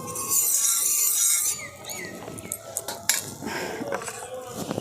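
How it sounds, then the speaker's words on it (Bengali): A metal spatula spreads a little oil across an iron tawa griddle, scraping and clinking lightly in short irregular strokes, close and moderately quiet, with a bright hiss at the start. "দেখুন খুন্তিতে অল্প একটুখানি তেল নিয়ে আমি এইভাবে দিয়ে দিচ্ছি পুরো তাওয়াটার মধ্যে।"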